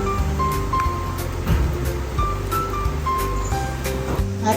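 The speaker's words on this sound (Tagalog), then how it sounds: "At ayan, kasi kumukulo na ng ating tubig." Water boils in a pot while homemade spaghetti is being prepared, a steady close bubbling hiss that runs continuously with faint tonal sounds in the background.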